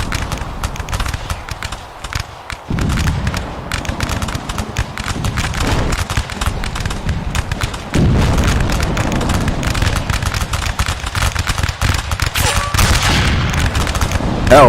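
Musket volleys from the Revolutionary War game Rise of Liberty crackle and boom repeatedly, with scattered distant shots and louder nearby blasts layered over battlefield noise and a voice.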